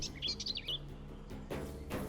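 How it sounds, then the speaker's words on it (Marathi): Birds chirp at night in a quick run of high, bright tweets in the first moment. The calls then fade under a low, steady background hum with a soft rustle near the end. "रात्री पक्ष्यांचा आवाज येत होता"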